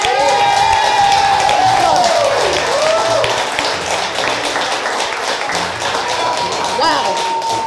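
A restaurant crowd cheers and claps for an eater finishing a huge Aussie parmi challenge, loud and continuous, with voices talking and whooping over the applause.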